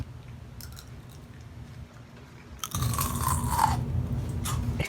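Crunchy chewing of raw wild ramps, a quiet stretch giving way at about three seconds to louder, close, continuous crisp biting and mastication with wet squishy texture, no talking.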